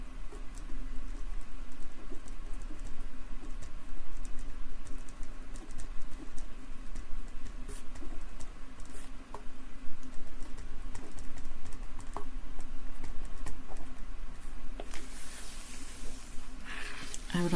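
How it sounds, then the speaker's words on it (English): Nonsense being typed on a computer keyboard, a steady soft patter of keystrokes running throughout, with a faint low hum beneath and occasional birdlike chirps in the background. "I could just type total nonsense and I would be calmed by it"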